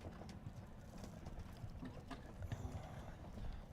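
Horse hooves cantering across a show jumping arena during an outdoor grand prix, a faint, fairly steady clip-clop rhythm under low, broad background noise from the grounds.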